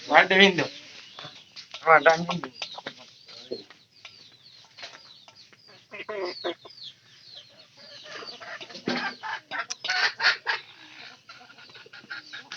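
Three domestic hens lay eggs in a household coop, sounding repeated loud clucks and squawking calls up close, with quieter clucking and shuffling between bursts.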